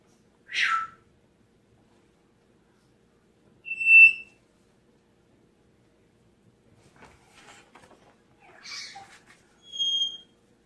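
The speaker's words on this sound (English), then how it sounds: "Sorry about those birds." Indoor background birds chirping in short, separate bursts: a sweeping whistle-like call, a bright tonal chirp, then softer twittering and two more clear chirps, all fairly faint and spaced out over near silence.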